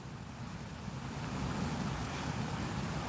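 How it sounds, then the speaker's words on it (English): Steady rain falls outdoors over a garden with bell pepper plants, a continuous close, even hiss with a low wash that swells slightly and holds on, with no voices. "It start raining now."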